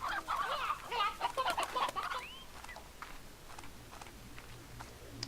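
A chicken in a video game clucks in a quick, busy run of close squawks and cackles, then fades to sparse, softer clucks over a quiet background.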